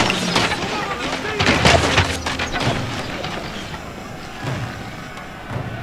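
Musket volley fired by troops in the battle game Total War: Shogun 2, a burst of booming gunfire cracks and crashes over an ongoing din of battle, with voices talking throughout.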